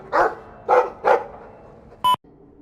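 Three close, clear barks come from a dog in the video game Dragon Age 2, followed by a brief sharp electronic tone.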